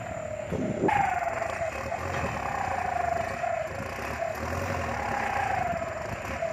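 A Kubota MU4902 tractor with its stock exhaust swapped for a titanium pipe idles steadily close by, a continuous engine drone with a rising whine at first.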